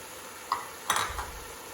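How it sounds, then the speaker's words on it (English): Carrots and potatoes tumble into a soup pot, two quick clattering drops followed by a brief rustling splash over a steady hiss, close and moderately loud, no voices. "So we're going to add our carrots, our potatoes"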